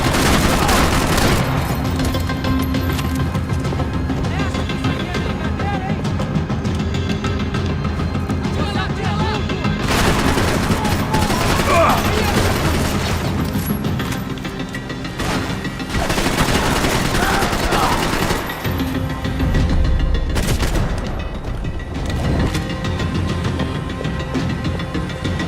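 Dense bursts of gunfire in the video game Max Payne 3, rapid overlapping shots and booms filling the whole stretch with brief lulls, loud and close.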